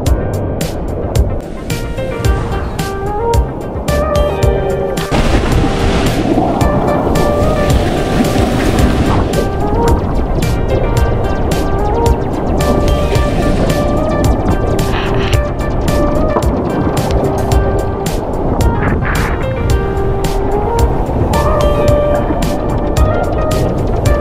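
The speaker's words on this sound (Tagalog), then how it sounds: "malakas nga po yung alon at mabibilis yung alon" Loud, continuous roar of strong, fast surf crashing at Boracay, with rushing water, steady throughout, with a faint voice now and then underneath.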